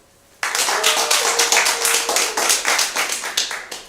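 Applause from an improv theatre audience at a Theatresports show breaks out suddenly after a short quiet stretch, many hands clapping close together in a loud, steady wash that keeps going to the end.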